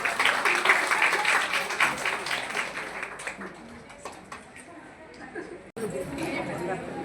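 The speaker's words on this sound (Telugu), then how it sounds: "నేను ఒకసారి చప్పట్లు కొట్టవలసిందిగా కోరుతున్నాను" An audience claps at a felicitation during a Women's Day event for women with disabilities. The applause is dense at first, then thins into scattered claps under murmuring voices, with a brief cut before it picks up again.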